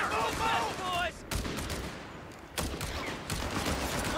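Battle gunfire in the video game Company of Heroes 3: sharp bursts and crackling shots ring out over a low rumble, mixed with shouted soldier voices, at a moderate, distant-feeling level.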